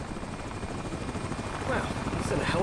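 A helicopter drones steadily in the American Arcadia video game, its rotor wash forming a continuous broadband roar that swells slightly toward the end of the short stretch.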